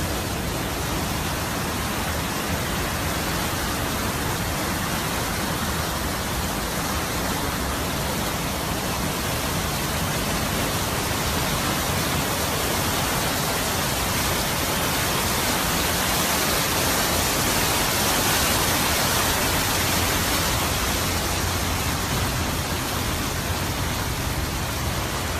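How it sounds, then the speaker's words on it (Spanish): Floodwater rushes hard down a street in Mexico after heavy rains, a dense, constant roar of loud water that fills the whole stretch with no voices over it. "aquí está la fuerza del agua"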